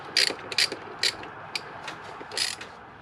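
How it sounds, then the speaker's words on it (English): A 10mm socket ratchet loosening the intake hose clamp on a Toyota Tundra gives several quick, close clicking bursts at uneven intervals, with quiet gaps between them. "I'm using a 10mm socket."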